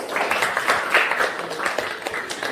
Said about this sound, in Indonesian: Kita berikan lagi aplaus.